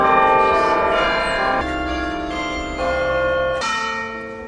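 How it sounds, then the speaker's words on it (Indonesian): A church bell in a repaired clock tower rings with loud, rich, sustained tones, and new strikes come in over the ringing decay of earlier ones. No voices are heard. "mereka keluar untuk mendengar lonceng untuk pertama kalinya dalam 284"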